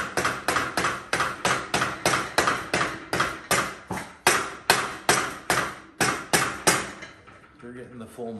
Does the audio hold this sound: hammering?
yes